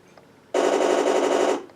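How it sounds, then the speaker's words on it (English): An IBU2 sound unit installed in a Torro King Tiger RC tank with a Henschel turret plays its machine gun effect, a loud, rapid rattling burst lasting about a second that starts abruptly after near silence and then cuts off. "Machine gun works."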